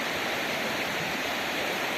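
A mountain river in the Carpathians near the Hurkalo waterfall rushes steadily and loudly, a dense, unbroken broadband roar of flowing water close by.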